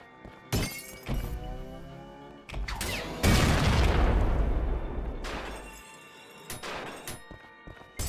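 A heavy video game explosion from the Providence Whiplash points in a modded level, booming and crackling with debris-like shatter that swells and rolls on for several seconds amid scattered impact thuds.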